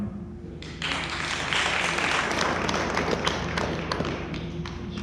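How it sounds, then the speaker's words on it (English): Applause from a crowd at a school board listening session, honoring the school principal: steady, dense clapping that starts abruptly and carries on evenly at moderate loudness. "the principal gets clapped up"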